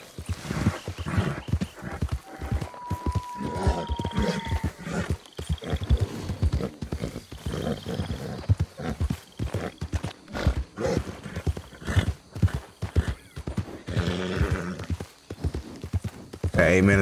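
Horse hooves clip-clop at a steady trotting rhythm while riding through Red Dead Redemption 2 online, with someone talking over the hoofbeats and a brief whinny-like tone partway through.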